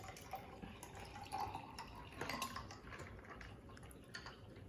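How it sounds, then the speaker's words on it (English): Iced tea poured from a jug into a glass gives a soft trickle with light clinks and drips, faint and close, with no talking. "I'm gonna pour myself a glass."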